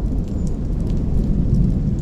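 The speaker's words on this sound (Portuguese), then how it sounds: "finalmente chuva na cabana, e parece que tava só começando, parece que agora é que vai começar a chover mesmo" Heavy rain falling steadily on a cabin, a dense continuous roar with low rumbling underneath, loud and close with no voices.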